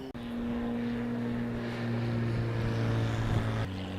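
A propeller airplane passes close to an airport runway, heard from a garden: a loud, steady engine drone with a low tonal hum that swells slightly, then cuts off near the end, with no talking.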